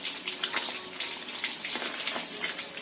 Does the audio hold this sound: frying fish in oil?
yes